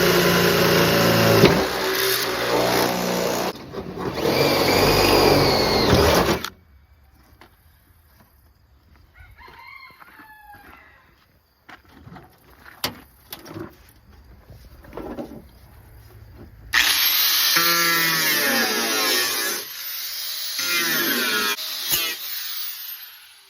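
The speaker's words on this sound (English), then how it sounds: "drilling our hole for our last bolt." A power drill bores a bolt hole in a minivan tailgate, loud whining bursts at the start and end with a quiet gap of scattered clicks and handling noises between them.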